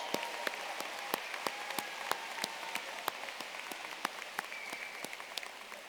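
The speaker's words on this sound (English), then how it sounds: "Let's give all the members of our top 10 a warm round of applause." A crowd at a high school graduation ceremony applauds the class's top ten graduates, a steady, somewhat distant wash of clapping with sharp individual claps standing out.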